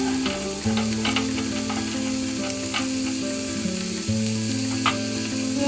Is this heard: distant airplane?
no